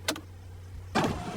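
Electric power windows on a new car in the Peppa Pig cartoon, two short motor whirs, a brief one at the start and a longer one about a second later, over a low steady hum.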